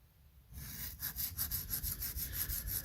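Spyderco Parata knife blade drawn across a sharpening stone: after a brief quiet start come about ten rhythmic, rasping strokes, close and faint, with no talk.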